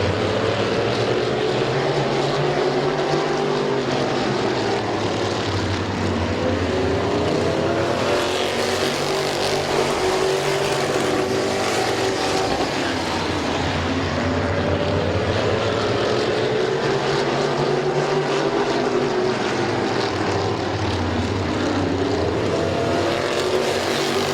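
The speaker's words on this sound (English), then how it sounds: "Lucas Ripley and Kevin McClintock right in the tire tracks of that number 2 of McCreary" Race cars circle the oval at Midvale Speedway, their engines droning continuously and rising and falling in pitch as the pack passes again and again, loud and steady throughout.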